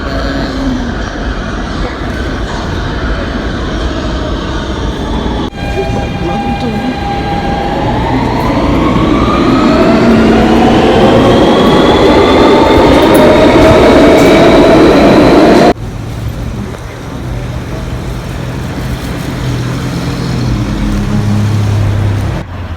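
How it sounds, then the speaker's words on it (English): A train rumbles loudly nearby, its wheels roaring on the rails with a rising screech of brakes before the noise abruptly drops to a steady hum. "I just came off the train"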